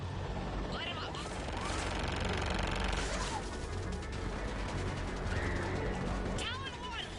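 Air support gunship in Mass Effect 3 firing on ground targets, sustained heavy gunfire and mechanical rumble running loud and continuous throughout, with bursts and sweeping whines over it and radio voices talking at times.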